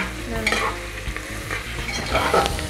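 About a kilo of yogurt-marinated mutton frying for Bengali mutton kosha, a loud close sizzle punctuated by repeated scraping and clattering stirs in the pan, with no talking.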